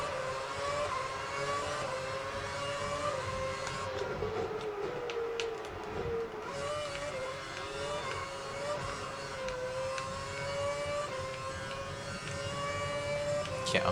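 Formula One race cars from the Williams team roar off the start in the F1 2011 video game, a continuous high, whining engine drone whose pitch rises and falls as the cars accelerate together.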